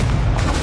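Spell effect from the Hogwarts Legacy video game, a dense low rumbling boom sustained and loud through the whole brief moment, with no voices.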